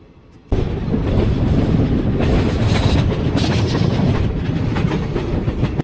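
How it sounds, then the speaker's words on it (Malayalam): A passenger train pulls into platform 1 of Feroke railway station in Kerala, with loud, steady rumbling and rhythmic clattering of wheels on rails that starts abruptly and carries on alone, close by. "ട്രെയിൻ ഇപ്പോൾ ഫറൂഖ് റെയിൽവേ സ്റ്റേഷൻ്റെ പ്ലാറ്റ്ഫോം നമ്പർ 1 വന്നെത്തിയിരിക്കുന്നത്"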